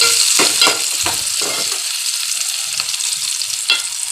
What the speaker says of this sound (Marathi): कांदा टोमॅटो चांगला परतून घेऊया